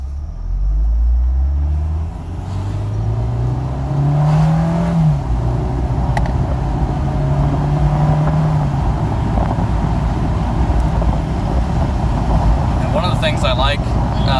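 A 2017 FIAT 124 Spider Lusso with a turbo engine drives on a test run, its steady engine drone and a rising rev blending with continuous road and wind noise while a person talks over it.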